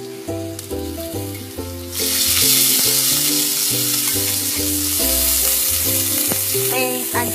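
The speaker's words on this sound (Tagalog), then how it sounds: "Gisa ang bawang." Garlic and onion sauté in a hot pan for kare-kare. A loud burst of sizzling starts about two seconds in and stays steady under stirring clinks, with some tonal background music and no talking.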